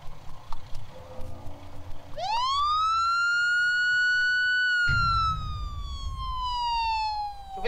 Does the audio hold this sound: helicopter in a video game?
no